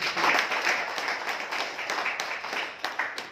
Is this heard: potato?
no